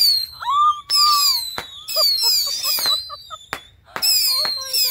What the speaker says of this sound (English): Bottle rockets.